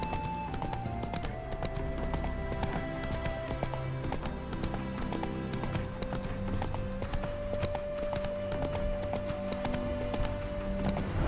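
Roach, Geralt's horse in The Witcher 3, clip-clops along at a steady walking rhythm while a quiet musical drone and ambient game sounds play beneath.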